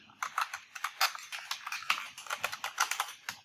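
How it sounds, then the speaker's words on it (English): Fingers typing a username on a computer keyboard, a quick irregular run of sharp clicks at close range, the keystrokes coming in uneven bursts with short pauses and no talking. "So here I would type in my username"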